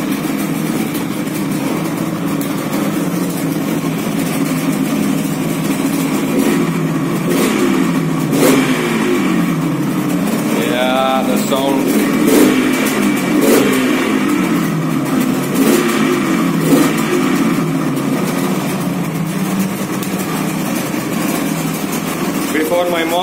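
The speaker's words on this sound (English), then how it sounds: "The effect of keeping the bike in idling for 2 minutes. Well, what else can we expect out of a two-stroke?" A Yamaha RD350 two-stroke motorcycle idles roughly and is revved repeatedly, loud and close, with the engine note climbing and falling through several throttle blips over a steady burbling idle.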